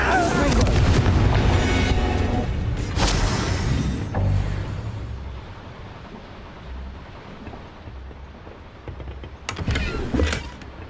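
A Bombarda spell explosion in Hogwarts Legacy produces a heavy, booming blast with a rumbling tail that fades over several seconds, then a second, smaller whoosh and impact near the end.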